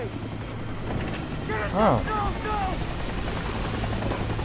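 Helicopter in the video game Far Cry 3, a steady rotor drone with engine hum running throughout, with a person speaking briefly over it.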